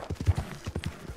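Horse hooves clip-clop in Red Dead Redemption 2, a quick, close, irregular run of hoof strikes on hard ground, loud and alone.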